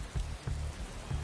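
Rain falling during a race practice session in the motorsport management game Motorsport Manager, a steady low patter with a few soft swells, heard alone.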